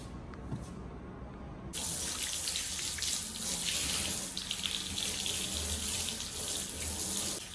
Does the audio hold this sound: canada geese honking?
no